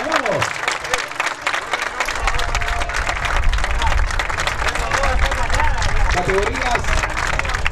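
Outdoor crowd at a Central San Javier football final applauding as the club's youth teams and coaches walk out, steady dense clapping mixed with cheers and chatter, with a loud announcer voice over it at the start.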